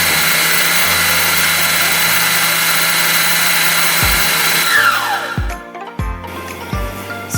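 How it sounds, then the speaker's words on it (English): Electric mixer beating egg yolks for a chocolate cake, a loud continuous motor whine with shifting speed steps, then switching off and on in short bursts toward the end; no talking. "I'll beat my egg yolks"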